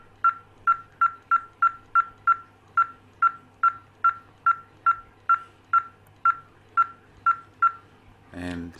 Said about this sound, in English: I tested how many clicks with the trim of the throttle it will need to